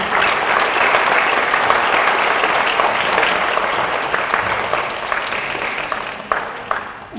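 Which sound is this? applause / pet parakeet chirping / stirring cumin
applause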